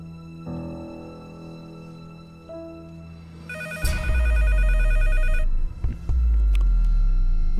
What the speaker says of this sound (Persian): تلفن جواب بده